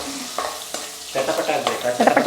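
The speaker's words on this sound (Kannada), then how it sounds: "ಚಟಪಟ ಚಟಪಟ ಫ್ರೈ ಮಾಡಿ" Five or six garlic cloves spattering in two spoons of hot oil for a mushroom sukka, with a close sizzle broken by sharp crackles and stirring clatter that grows busier and louder toward the end.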